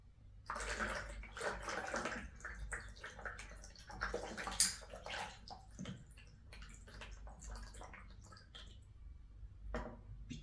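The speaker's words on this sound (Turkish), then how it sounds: "Daha sonra soğuk suyu döküyorum." Cold water pours and splashes over a glass bottle in a bottle-cutting session, a continuous close-up stream with gurgling and dripping that varies in intensity for about ten seconds, with no talk.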